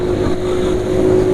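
A motor running with an engine oil additive mix of silicone oil and zinc sulfate, revving steadily near and loud with a constant tonal drone and rough low rumble, no talk.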